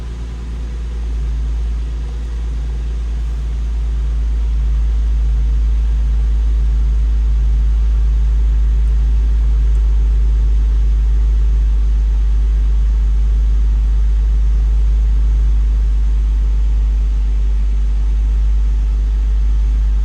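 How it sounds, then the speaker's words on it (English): A car idles steadily after an oil change, a low, constant engine rumble that swells slightly in the first seconds and then holds even and close for the rest of the clip. "We're going to start the car and hopefully I don't die."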